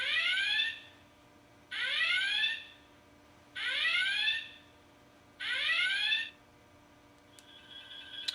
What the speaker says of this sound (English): There's our red alert.